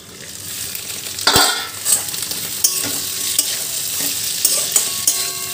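Spice paste sautés with pointed gourd in a pan, giving a continuous close sizzle broken by sharp scraping strokes of a spoon against the metal.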